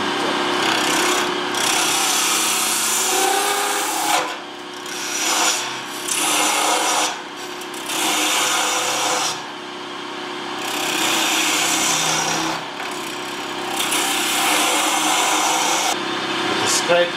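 A scraper cutting a spinning wooden top on a wood lathe, giving steady rasping, scraping bursts broken by short pauses, loud and close as the tool is applied and lifted repeatedly.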